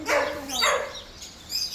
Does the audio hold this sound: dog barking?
yes